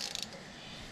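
A ratchet wrench turning a deep socket on race car trailer brakes, a short burst of quick metallic clicks right at the start, close, then a quiet hiss with no talking.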